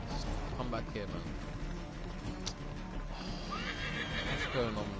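A horse whinnies and hooves clatter in Assassin's Creed 3 gameplay, close and fairly loud, with a voice talking over the sounds.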